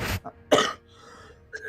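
A few sharp coughs burst out in quick succession from one person close to the microphone, separated by short pauses of quiet room noise.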